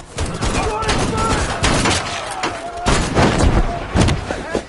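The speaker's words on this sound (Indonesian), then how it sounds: "Namun pasukan Jepang telah menyiapkan senjata untuk menembaki mereka." Gunfire from Japanese troops in a war film, a dense, continuous crackle of shots and bursts with heavy low thuds, mixed under dramatic film sound.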